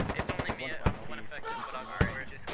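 Suppressive gunfire in the Squad video game, a rapid burst of close machine-gun shots at the start followed by scattered louder single cracks and distant firing, with voices talking over it.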